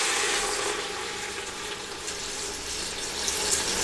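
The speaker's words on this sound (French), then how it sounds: "Et je vais maintenant couvrir à hauteur avec de l'eau." Water runs steadily into a cooking pot to cover beans for Tunisian bsal ou loubia, a continuous close splashing pour lasting the whole stretch without pause.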